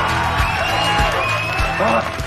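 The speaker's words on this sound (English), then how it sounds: "how about a big round of applause for Nick and mostly Patrick?" Cheering and whoops from a crowd in a game-show setting, with rhythmic thumps and voices shouting over the noise, loud and close.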